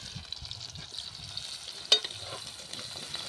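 Garlic and onion frying in a home kitchen pan, a soft steady sizzle heard from a short distance with faint clinks of stirring.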